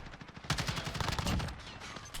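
Rapid automatic AUG assault rifle fire in Call of Duty Modern Warfare, a dense burst of loud cracking shots from about half a second onward, continuing in quick bursts to the end.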